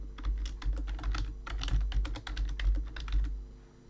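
Rapid, irregular keystrokes on a computer keyboard while entering a new WordPress admin user's details, close and clear, in quick bursts of clicks with no talking.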